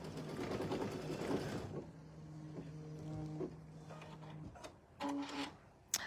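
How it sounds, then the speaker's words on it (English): Domestic sewing machine stitching quilt garland fabric in a home sewing room, a steady mechanical whirr of several runs with brief pauses between, close and fairly loud with no talk over it. "when you're just sitting here sewing until you've got it on camera and you hear it all"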